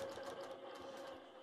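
Computerized quilting machine stitching along the ditch around an outer frame, a steady close mechanical whir with a fast, even needle rhythm and no talk.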